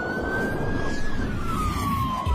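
A police car siren wails with a single sliding tone that slowly drops in pitch over rumbling vehicle noise, loud and close, no talking.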